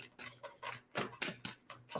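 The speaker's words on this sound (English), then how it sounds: "Just getting a good shuffle in." Tarot cards being shuffled by hand, a rhythmic series of crisp riffling bursts about every quarter second, close and moderately loud, no talk.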